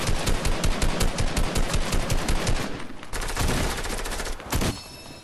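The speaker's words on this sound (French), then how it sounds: "ça canarde à mort là-dedans, il y a du monde" Rapid automatic gunfire bursts in the Fortnite video game, loud and dense with repeated volleys and scattered single shots in a crowded firefight, heard alone without talk.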